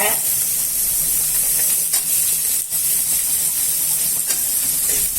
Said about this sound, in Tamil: சேர்த்து எல்லாத்தையும் ஒன்றா வதக்குங்க